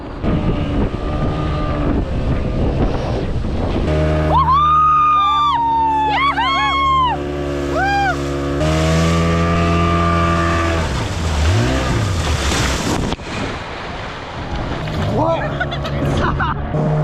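Banana boat ride towed across sea waves at Tarkarli beach, Malvan: a loud, steady engine and wind roar runs throughout, with people shouting and cheering over it and a brief voice near the start.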